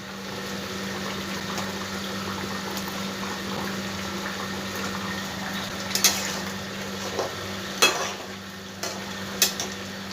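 Pieces of katla fish go into a curry simmering with softened raw banana, potato and radhuni spice paste: a low, steady bubbling hum, broken near the end by a few sharp clinks of utensil against the pot.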